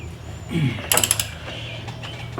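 A ratchet with a 33mm socket loosening the rear axle nut on a Harley-Davidson touring motorcycle, a short creak then a quick burst of clicking ratchet pawl, close and clear.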